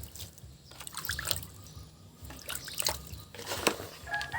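Water drips and trickles into a shrimp bait mix being kneaded by hand, faint irregular splashes close by with soft handling noises and no talk.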